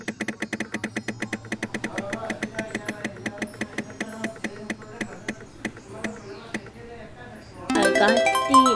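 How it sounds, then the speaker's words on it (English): A prize wheel spins in a Roblox game, making a steady train of rapid mechanical ticks that gradually slow, then a bright burst of chiming reward music at the end. "So I'm gonna spin the wheel."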